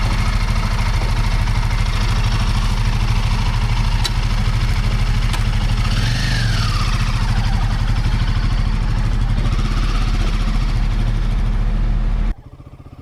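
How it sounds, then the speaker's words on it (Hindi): A motorcycle engine runs at a steady, loud idle close by, with a brief rev swelling near the middle, then the rumble cuts off abruptly just before the end. "बाइक को स्टार्ट करते हैं"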